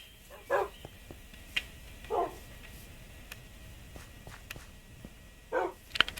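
Dogs in the Minecraft video game give a few short, soft barks spaced a couple of seconds apart, with faint clicks between them and no talking.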